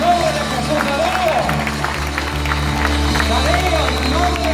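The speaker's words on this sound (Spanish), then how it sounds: "Dé un aplauso en el nombre de Jesús" Congregation at a baptism service applauding, a continuous patter of clapping with crowd murmur, under a voice and some amplified tones.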